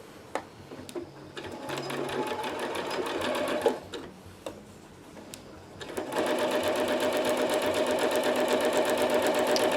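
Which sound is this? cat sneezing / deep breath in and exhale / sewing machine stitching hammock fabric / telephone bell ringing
sewing machine stitching hammock fabric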